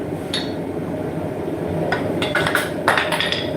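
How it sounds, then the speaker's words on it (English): Sharp metallic hammer strikes fitting a tomahawk handle into its head ring out over a steady background hum, a handful of hits clustered toward the end, close and fairly loud. "You can do this with a hammer."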